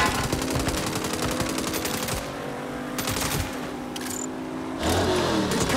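Sustained automatic gunfire rattles through a shootout in the Saints Row video game, dense rapid bursts with a few short pauses, loud and close, with engine-like noise underneath.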